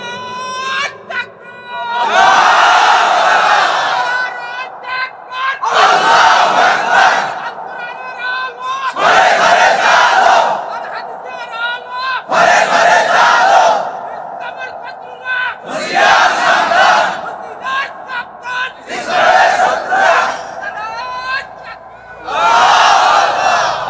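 A large crowd at an Islamic religious gathering shouts slogans in call-and-response bursts, loud roaring chants repeating about every three to four seconds with brief pauses between them.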